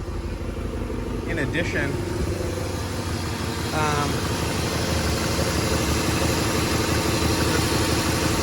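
A BMW E34 540i engine idles smoothly at just under 1,000 RPM after a throttle cable bushing upgrade, giving a steady, even low rumble throughout while someone talks over it.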